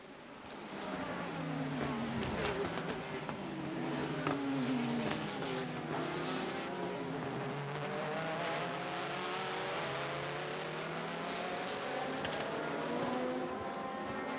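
Super GT race cars run at Sepang in the 2007 300 km race, a loud sustained engine roar with rising and falling pitch sweeps as several cars pass, continuous throughout.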